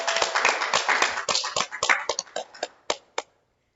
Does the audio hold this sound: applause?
yes